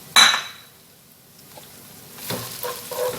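Chicken dropped into a cooking pot: a sharp metallic clank at the start, a quiet pause, then rising sizzling and light scraping close by, with no voices.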